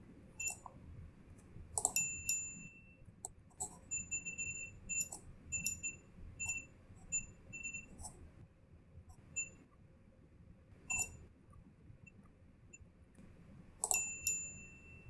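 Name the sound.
bell sound effect in video editing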